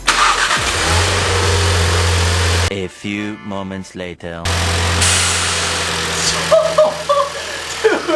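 A Volkswagen Golf Alltrack engine with a blow-off valve idles and revs loudly up close, dropping briefly while a voice speaks, then resumes with a rough, fluttering whoosh as it settles.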